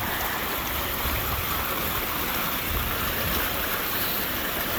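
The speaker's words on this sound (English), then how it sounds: "So here's that, all that water coming out." Water pours out of a seep in winter as a steady, dense rush of flow, unbroken and fairly close for the whole stretch.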